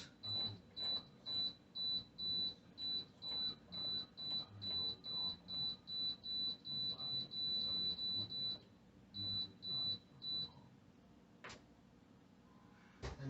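An Instant Pot being set to pressure cook on high for beef goulash gives a long run of short, evenly spaced electronic beeps, close and clear, then a few more after a brief pause, with no talking.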